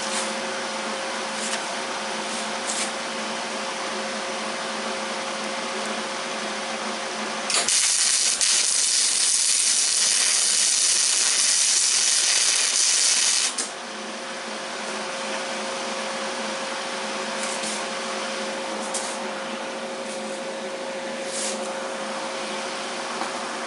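Welding on a gearbox adapter for an auxiliary gear box gives a steady, loud hiss and crackle that runs for about six seconds, starting and stopping abruptly against a quieter shop background.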